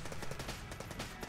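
Rapid pistol fire in the video game Enter the Gungeon, a dense, continuous rattle of shots filling the whole stretch at low level.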